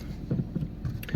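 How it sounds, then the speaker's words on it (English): A car's front nearside tyre rubbing against the curb during roadside parking gives a low, muffled scuffing and grinding, several soft rumbling pulses close by with faint wind noise and no voices. "The front near side wheel tyre is touching the curb now."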